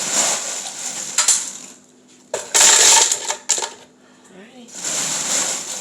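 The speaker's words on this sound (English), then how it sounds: "You want to scoop like the loose ice so it's easier to blend." Loose ice being scooped into small shot-glass cups for blending, heard as repeated clinking, rattling bursts of ice against glass, close and fairly loud, with quieter pauses between scoops.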